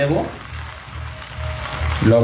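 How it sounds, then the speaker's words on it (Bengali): Chopped vegetables fry in a hot pan, giving a soft, steady sizzle that carries through the middle, while a person talks at the start and again at the end. "সবসময় আপনারা আগে ভেজে নেবেন সবজিটা।"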